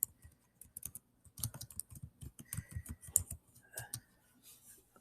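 Fingers type a book title on a computer keyboard in quick, uneven bursts of soft key clicks, heard up close with brief pauses and no one speaking.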